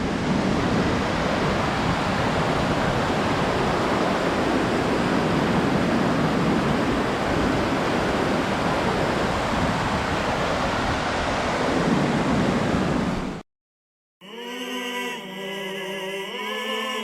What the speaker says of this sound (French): Magnifique cascade.